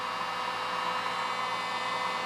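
Heat gun blowing on painted cabinet doors to strip the paint, a steady, even whooshing hum with no variation, close and continuous.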